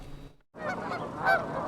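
A goose honks in rural Iowa, a single loud nasal call rising after a brief pause, with outdoor background noise and no talking.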